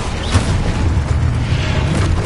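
A loud, heavy boom from the Expulso blasting spell in Hogwarts Legacy, a dense low rumble that sustains without a clear break through the short stretch.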